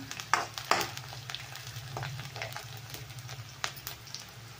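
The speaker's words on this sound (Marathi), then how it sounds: "तर कांदा छान आपण लाल होईपर्यंत भाजणार आहे चांगला।" Onion frying in a pan until reddish, a steady crackling sizzle with intermittent sharper pops and stirring clatter, close up with no voices.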